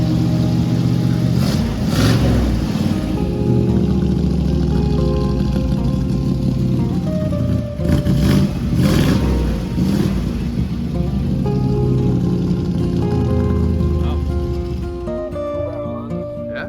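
A classic car at an old-school swap meet idles with a deep, steady engine rumble, punctuated by a few sharp revs near the start and middle, close by and loud, before settling back down.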